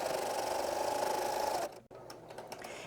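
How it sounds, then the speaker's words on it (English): Sewing machine stitching homespun fabric for a rag quilt, a steady close whirring run for about a second and a half, then stopping and giving way to quieter handling noises. "I'm not really watching my needle. I'm keeping an eye on my notch."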